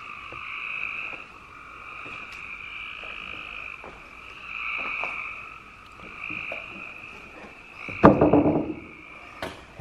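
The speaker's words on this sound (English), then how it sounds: "frogs are ridiculous." Frogs croak steadily in a dense chorus at an abandoned elementary school, with a louder, closer burst of calls near the end.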